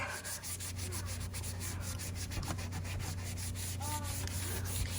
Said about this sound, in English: now I'm just gonna go to the window seal and see if this gunk will come off